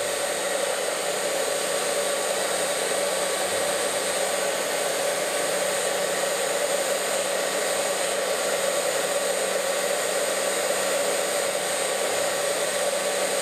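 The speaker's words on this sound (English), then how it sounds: "Don't blow dry the hair totally dry" A hair dryer roars steadily and close for the whole stretch while blow drying a seven-year-old girl's curly hair during a birthday haircut and color, with no talk over it.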